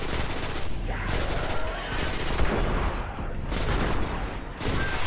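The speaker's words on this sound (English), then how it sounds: "this gun's got a hell of a lot of recoil" Automatic gunfire from a heavy-recoil weapon during a Destiny Venus patrol fight, a dense continuous fusillade of rapid shots holding loud and steady through the whole stretch with no talking.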